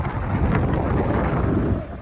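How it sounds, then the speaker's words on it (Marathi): A cool wind blows outdoors on a mountain road, buffeting the microphone as a heavy, low, continuous rumble that stays loud and steady throughout. "मस्त गारगार वारा सुटलाय"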